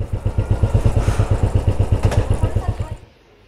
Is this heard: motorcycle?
yes